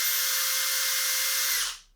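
A cordless power drill with a variable speed trigger spins freely, a loud steady high whine held at full speed for over a second and a half before winding down quickly to silence.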